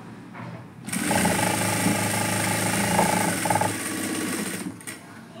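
A sewing machine stitching a simple blouse runs in one loud, continuous burst of rapid mechanical chatter close by for about four seconds, then stops. There is no talking.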